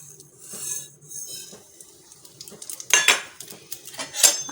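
Spices are dropped into a wok on low flame, heard as close metallic clinks and scrapes of utensil against pan, sparse at first then louder clattering bursts.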